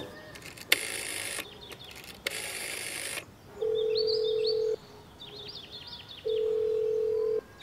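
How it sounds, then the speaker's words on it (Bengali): A telephone call to a police station rings out with two long steady ringback tones, following bursts of noisy dialing clicks and faint background chirps; no voices are heard. "এরপর আমি থানাতেই ফোনটা করলাম।"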